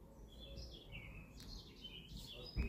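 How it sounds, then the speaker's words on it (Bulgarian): Faint birds chirp and tweet in short bursts over a quiet background hum in a village, with no one speaking. "Чувате ли птичките си как пеят?"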